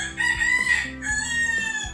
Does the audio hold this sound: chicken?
yes